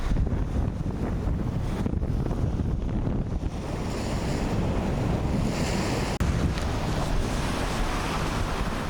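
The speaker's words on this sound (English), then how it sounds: "Very, very windy now." Strong wind in Croatia roars and buffets a lavalier microphone in a windsock continuously, a dense rumbling blast with steady intensity throughout.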